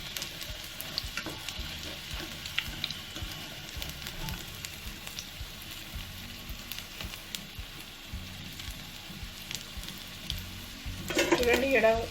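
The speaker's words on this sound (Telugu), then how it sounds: "చికెన్ పకోడీది మంచిగా వేగాయి." Chicken pakoda pieces sizzling in hot oil on a stove, a steady soft crackling fry that runs throughout, fairly faint and close, with a brief clatter near the end.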